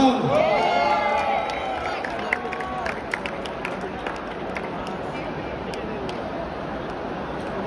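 A concert crowd at an anime convention DJ set claps and cheers, with whoops and scattered shouts, after an MC's voice over fading music at the start; the noise stays fairly loud and steady throughout.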